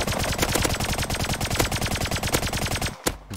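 Rapid automatic MP5 fire in the survival game Rust during a clan raid fight, a loud, steady burst of closely spaced shots that runs nearly the whole time, then a short pause and a couple of single reports.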